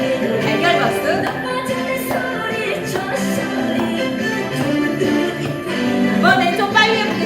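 Egg-shaped hollow-hand clapping during a seniors' online exercise session. Muted, evenly paced claps roughly once a second over ongoing background music.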